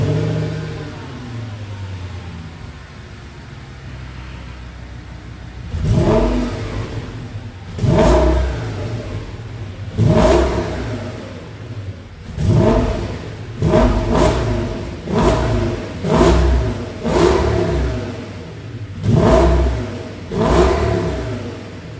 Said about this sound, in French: je vais vous faire déjà écouter le bruit en ayant enlevé juste les 2 premiers résonateurs